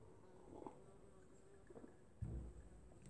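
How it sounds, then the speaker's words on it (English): A wasp buzzes around a glass of beer outdoors, a faint wavering drone that rises and fades as it moves close and away over steady background noise. "I think the wasp also is really interested in this beer"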